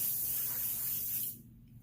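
A steady, close airbrush hiss of spraying paint onto a tumbler lasts over a second, then cuts off abruptly into quiet.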